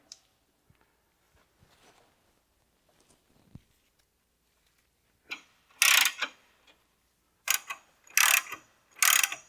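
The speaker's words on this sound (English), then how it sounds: "So we have a breaker bar, and we're going to break these loose, and then we're going to use a ratchet to get them once we're done." A breaker bar and ratchet loosen bolts during a DSG transmission service on a B8.5 Audi S4 with the 7-speed gearbox; faint clicks give way to four loud, close ratcheting bursts.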